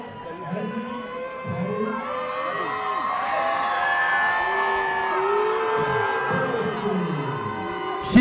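A fight night crowd cheers and whoops loudly, with shouts and high cries rising over a steady roar of noise, close and continuous.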